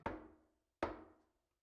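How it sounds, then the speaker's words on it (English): Two soft, separate knocks on a door in the visual novel Root Double, close and quiet, each fading quickly into silence. "that's a very soft knock"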